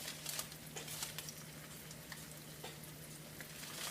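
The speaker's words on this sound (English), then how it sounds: "See, it's kind of sizzling right there." Steady, close sizzling of a cassava tortilla frying in a hot pan, a dense crackling hiss with a low hum underneath and no voices.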